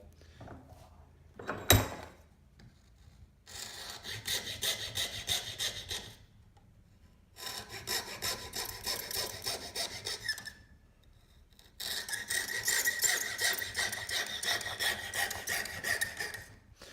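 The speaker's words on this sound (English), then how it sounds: "this section I'm going to cut down, down, and then do a diagonal cut and then finish off" A junior hacksaw cuts wood clamped in a vise: a sharp knock, then three long bursts of rapid back-and-forth rasping strokes separated by short pauses, close and clear.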